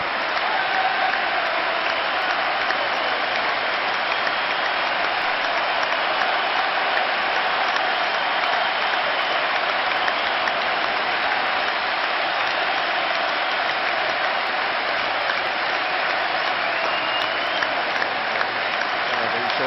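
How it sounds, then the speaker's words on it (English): A full Celtic Park stadium crowd stands and applauds at a charity legends football match, a steady, far-off roar of clapping that stays even and unbroken for about twenty seconds. "It's just this entire Celtic Park crowd get to their feet, including, it has to be said, the journalists and the press all beside us, standing as one and applauding a truly great Celt."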